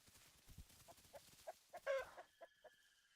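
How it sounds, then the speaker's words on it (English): A chicken in the dinosaur survival game The Isle gives a run of short, fairly faint clucks, spaced irregularly, with one louder burst in the middle. "I hear a chicken."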